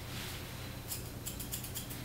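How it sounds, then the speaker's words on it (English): Thinning shears snipping through the feathering on a Cavalier King Charles Spaniel's leg during grooming, a run of quick, light metallic clips after a pause, close by over a steady background hum. "I'm just going to take my thinning shears all around wherever I feel is sticking out a little funnier than the rest"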